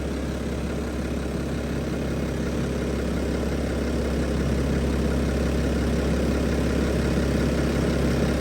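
A 2013 BMW 535 engine idles inside a shop, a steady, even low hum running continuously and fairly close, with no voices.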